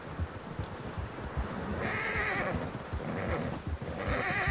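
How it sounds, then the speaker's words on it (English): Horses whinnying a few times over a steady bed of hoofbeats and rustling, moderately distant, in Red Dead Redemption 2. "Horses, quite a few of them."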